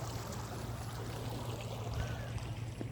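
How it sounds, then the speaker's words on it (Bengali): Tidal water streams in across a cyclone-damaged shoreline road after Cyclone Remal, a steady, close rushing flow that continues unbroken and moderately quiet throughout. "দেখুন কীভাবে জোয়ারের পানি উঠে"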